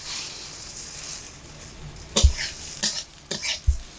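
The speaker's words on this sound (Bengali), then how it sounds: "গরম তেলের মধ্যে মুগ ডাল দিয়ে লাল লাল করে ভেজে নেব" Moong dal fries in hot oil in a pan, a soft sizzle that turns busier halfway through, with a few sharp scrapes and knocks from stirring close by.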